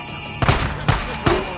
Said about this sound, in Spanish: Se hicieron múltiples disparos.